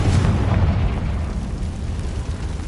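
A Confringo blast spell going off in Hogwarts Legacy, a loud, rumbling explosion with a heavy low-end boom that starts strong and keeps churning at a steady roar for a few seconds.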